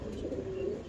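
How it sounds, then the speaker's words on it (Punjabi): A pigeon coos once, close and soft, in a single short low call over faint background hum. "ਆ ਸਾਡਾ 2 ਮੋਹਰਾਂ ਵਾਲਾ ਹੋ ਗਿਆ ਜੀ ਕਬੂਤਰ"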